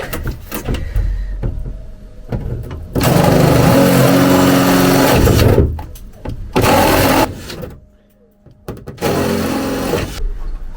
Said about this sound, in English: So now just get some holes drilled.